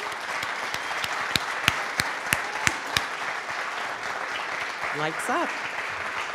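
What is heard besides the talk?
audience applause at a film festival awards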